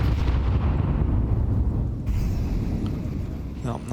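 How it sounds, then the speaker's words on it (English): Grenades in a Counter-Strike match between Falcons and G2 at IEM Cologne Major go off in a heavy, rumbling blast that fills the scene and slowly fades, with a commentator talking over it. "these nades are going to miss their mark"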